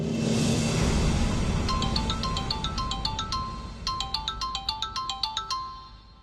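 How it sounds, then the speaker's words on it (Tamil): A phone rings from a call placed by an election officer, a repeated electronic ringtone melody sounding in short bursts over a low room hum, fairly close and clear with no talking. "எலெக்ஷன் ஆபீசர் தான் ஃபோன் பண்றாரு."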